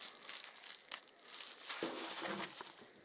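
Plastic packaging crinkles and crumples as a 75mm Wiseco piston for a Kawasaki Z1000J engine is unwrapped, close-up rustling in uneven bursts with a short sharp crackle early on.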